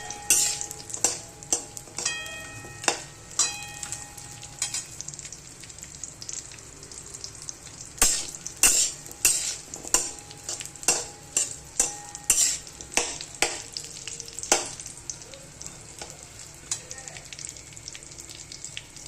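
Dry fruits for date and dry-date laddus roast in oil in a pan, with repeated metal scrapes and clinks of stirring over a soft, steady sizzle; the clatter is close and irregular throughout.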